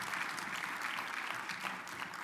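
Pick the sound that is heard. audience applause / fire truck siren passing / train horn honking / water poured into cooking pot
audience applause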